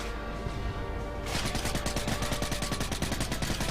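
Rapid automatic shots from an AK-style shotgun in Call of Duty: Modern Warfare 3, a loud, fast burst of evenly spaced blasts starting abruptly after a moment of background game noise.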